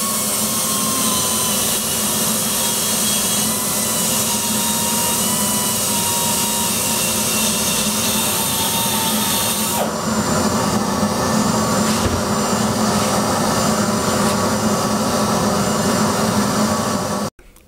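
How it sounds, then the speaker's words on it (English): A cutter machines the combustion chambers of a Mopar 2.2 turbo cylinder head, a loud, steady high-pitched grinding whir that runs continuously and shifts tone partway through before cutting off abruptly at the end. "At this point, I'm just ready to start cutting the chambers."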